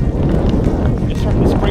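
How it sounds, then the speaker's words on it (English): Steady wind roars across an open frozen lake during ice fishing for bass with tip downs, a constant close buffeting rush against the microphone with no break throughout. "It's windy."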